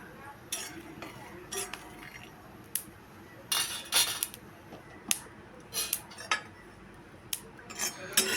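Dry peanuts rattle and scrape as they roast in a metal pan, with irregular clinks and scrapes of a spatula stirring close by.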